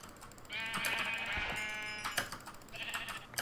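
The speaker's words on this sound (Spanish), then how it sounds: "Tengo un montón de ovejas, qué guay." Sheep bleating in the Minecraft video game, a couple of drawn-out, wavering bleats close by separated by brief pauses, with faint clicking in the background and no speech.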